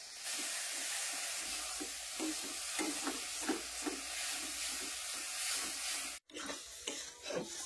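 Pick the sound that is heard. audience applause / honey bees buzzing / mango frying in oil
mango frying in oil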